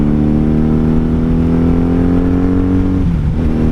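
A 1997 Honda Magna VF750C motorcycle engine droning steadily and loud at highway speed, with a continuous low harmonic hum and wind rush, and a brief shift in pitch near the end as a gear changes.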